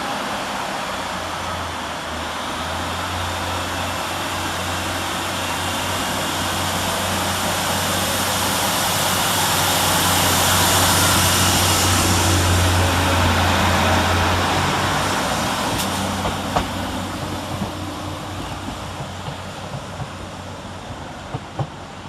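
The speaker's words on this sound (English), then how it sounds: "156461, departing with the 1350 Northern service from Preston to Colne" Northern class 156 diesel unit 156461 pulls out of Blackburn station with the Preston to Colne service, a long, steady engine rumble and low drone that swells gradually as the unit moves off, with a few sharp clanks near the end.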